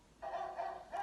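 A person imitates a small dog barking with three short woofs in a quick, even rhythm, close but fairly quiet, in a children's game of animal sounds.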